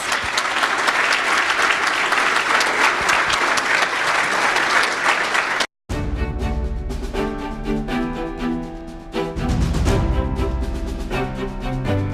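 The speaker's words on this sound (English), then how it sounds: "So a round of applause to our sponsor," Audience applause at a San Francisco Deputy Sheriffs' award ceremony, a dense, sustained burst of clapping for about six seconds that cuts off abruptly, followed by music.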